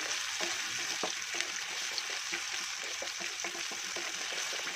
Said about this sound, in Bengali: গ্যাসের আঁচটা কম করে এটাকে ভালো করে নাড়িয়ে নেব আর কষিয়ে নেব।